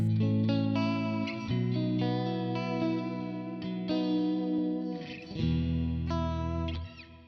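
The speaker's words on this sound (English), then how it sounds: "Vibrato with reverb sounds pretty nice" Electric guitar run through a pedal board with vibrato and reverb, sustained chords wavering in pitch and trailing into a washy tail, several chord changes played alone and fairly loud.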